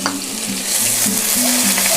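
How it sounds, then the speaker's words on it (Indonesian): Coarsely chopped shallots and garlic hit hot oil with a loud, continuous sizzle and crackle, while a utensil stirs with rhythmic scraping strokes, close up and without voices. "Minyaknya sudah panas, saya masukkan dulu bawang merah dan bawang putih yang sudah dicincang kasar."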